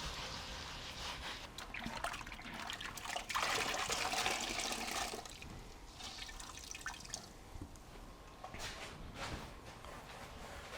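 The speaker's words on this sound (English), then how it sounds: "I'm just wringing that sponge out" A wet sponge is wrung out by hand during concrete work, water dribbling and trickling in faint, uneven splashes with soft squeezes, close and quiet with no talk.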